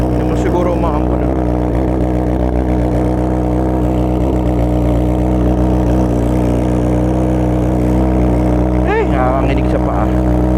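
A Honda CBR1000RR Fireblade sits idling while it warms up, a loud, steady low engine drone with strong even harmonics, and a person speaks over it.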